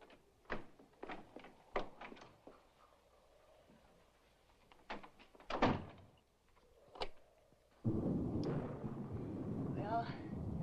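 A solid room door shuts in an old house: a series of sharp knocks and thuds, one heavier slam near the middle, followed by a rumbling, noisy wash of sound; no one speaks.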